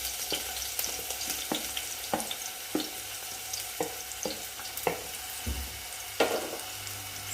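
Sliced onions sizzle in hot oil for an egg roast, a steady frying hiss broken by repeated sharp scrapes and clinks of a spoon stirring the pan, with no voices.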